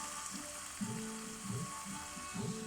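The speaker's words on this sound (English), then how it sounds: "There's the Bombay potatoes cooking away" Bombay potatoes sizzle and fry steadily in a pan, a continuous crackling hiss with low bubbling pops close by and no talk over it.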